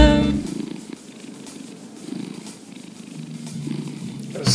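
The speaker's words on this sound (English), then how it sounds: "when you stroke the right spot, he'll give you a purr." A soft-furred cat purrs steadily and close by, a low rhythmic rumble rising and falling with each breath, alone with no talking.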